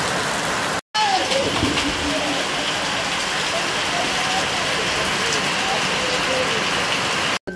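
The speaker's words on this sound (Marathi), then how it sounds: "अचानकच पावसाने हजेरी लावली" Sudden rain falls outdoors during a family outing, a steady broadband patter and hiss close by, with faint tonal chirps or bird-like calls threaded through and a brief cut near the start.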